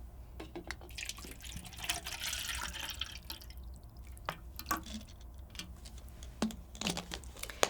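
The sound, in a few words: water filling a clear container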